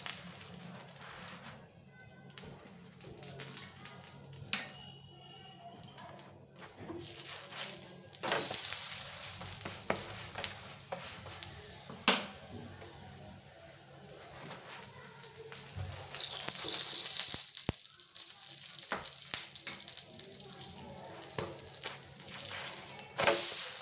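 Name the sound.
aloo cheese paratha frying with ghee on a pan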